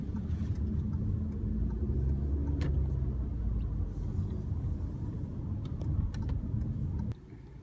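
A 2018 Toyota C-HR drives along with a steady, loud low engine and road rumble, then slows as it pulls in, the noise dropping off sharply near the end; no talking.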